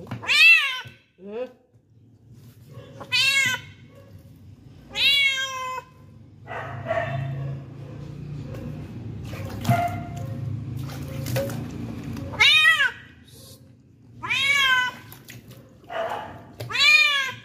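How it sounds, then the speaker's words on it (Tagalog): A cat meows loudly several times in drawn-out cries, close up, indoors at home, with quieter rustling and low background noise between calls. "Pusa."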